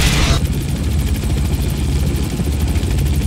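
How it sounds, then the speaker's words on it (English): Helicopter in the game Manhunt 2, a loud, close rotor chop thumping in a fast steady rhythm over a heavy engine drone, with no voices. "Send a chopper over to soften him up."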